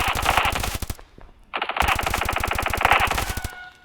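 Rapid automatic gunfire in Standoff 2, a video game, in two long bursts separated by a short pause, loud and sharp with a fast, even rhythm.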